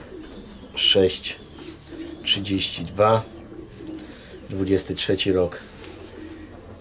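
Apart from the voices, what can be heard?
pigeon cooing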